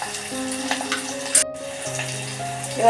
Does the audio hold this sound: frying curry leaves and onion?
yes